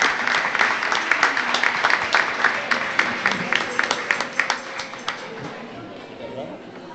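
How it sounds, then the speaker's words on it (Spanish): An audience at a traditional carnival in Castillo del Romeral claps in a long burst of applause, with sharp individual claps standing out near the front before it fades away, and voices chatter underneath. "Para todos ellos, un fuerte aplauso."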